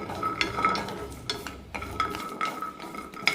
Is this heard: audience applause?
no